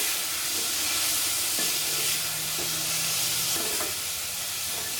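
A tomato mixture for moru curry being stirred in a hot pan: loud, continuous sizzling and hiss with regular scraping strokes of the spoon roughly once a second, close up.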